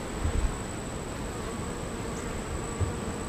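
Honeybees hum in an open beehive during an inspection, a steady, soft, close buzz with a few brief low thumps and no talking.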